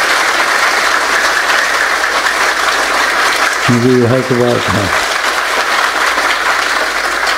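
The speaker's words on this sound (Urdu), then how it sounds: "مارو تالیاں" Sustained audience applause fills the room at a speech gathering, a steady dense wash of clapping throughout, with a short spoken phrase rising over it near the middle.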